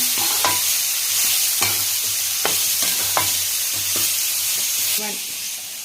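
A spice mixture frying in oil is stirred in a pan, with a steady loud sizzle and repeated scraping strokes of the spoon throughout.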